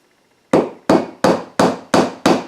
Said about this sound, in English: Now what I'm doing is I'm being very gentle with the hammer and just hitting that with the head at 90 degrees